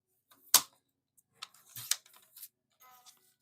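A paper cutter or blade slices a 2-inch strip off a sheet of scrapbook paper with a sharp snap, then a few quieter scraping and rustling cuts, close and distinct in a quiet room.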